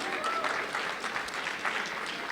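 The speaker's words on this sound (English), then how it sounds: "A big round of applause for all of you." Steady, dense applause from a breakfast meeting crowd honoring Pennsylvania House members, sustained clapping filling the room with a murmur of voices underneath.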